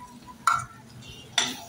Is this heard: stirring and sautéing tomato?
yes